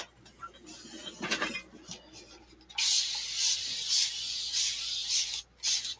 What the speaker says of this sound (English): I'm going to spray this some more.